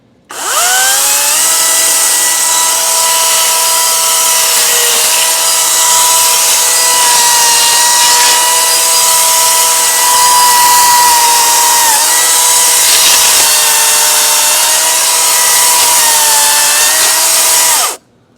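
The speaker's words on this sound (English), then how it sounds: "see actually if the chainsaw can clear out some of these smaller branches" A loud 16-inch EGO battery-powered chainsaw whines steadily for about fifteen seconds, its pitch dipping slightly as it bites into palm branches, then cuts off abruptly.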